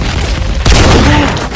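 A single loud, booming sniper rifle shot fired without scoping in a first-person shooter game. It bursts abruptly out of a dense, noisy game background and leaves a rumbling tail.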